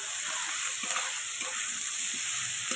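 Potatoes and onions fry in oil with Kashmiri chili powder, a steady hissing sizzle with faint occasional scrapes as the pan is stirred.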